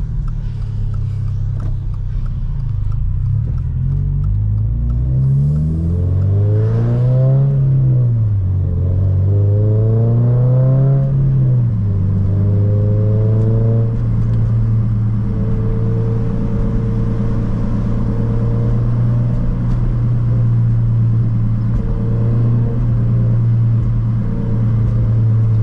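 A Subaru BRZ drives on a cool Friday evening, the engine humming from inside the cabin as it revs up and down through several gear changes before settling into a steady cruising drone, with no voices.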